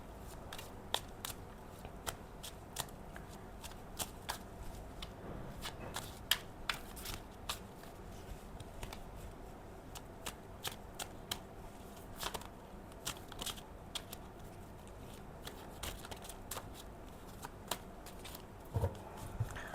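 Tarot cards are shuffled by hand in a soft, continuous run of crisp riffling and flicking snaps, close and quiet, with no voice over it.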